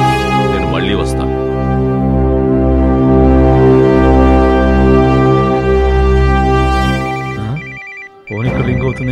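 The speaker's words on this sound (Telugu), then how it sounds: "ఫోన్ ఇక్కడ రింగ్ అవుతుంది ఏంటి?" Mobile phone ringtone playing as a steady melodic tone, loud and continuous for about eight seconds before cutting off; a brief voice is heard near the start and end.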